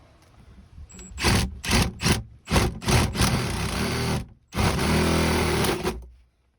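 Hand saw cutting wood during a camper van build, a series of close rasping strokes in quick bursts followed by a longer sustained run of sawing that stops abruptly.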